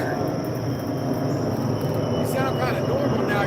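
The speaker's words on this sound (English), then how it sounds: "It's an airplane." An airplane flies overhead as a steady, loud broadband roar with a wavering whine, heard outdoors at night, with a person speaking over it.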